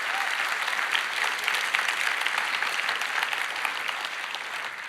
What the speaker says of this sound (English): I would like to give them a round of applause for keeping the internet safe.